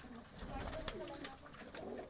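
Pigeons in a coop coo softly in low, rolling calls, faint and intermittent over a quiet background with a few brief sharper sounds.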